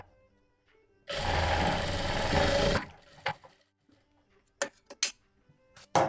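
Sewing machine stitching a princess cut blouse, a loud buzzing run of rapid stitches for about two seconds, then stopping, followed by a few short clicks and fabric handling sounds in a quiet room.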